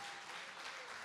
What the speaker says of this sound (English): You can give me a round of applause.